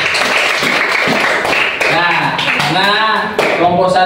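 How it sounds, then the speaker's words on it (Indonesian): A classroom of students claps for the first discussion group, a burst of dense applause that gives way to voices talking over scattered claps. "kita kasih tepuk tangan dulu untuk kelompok 1"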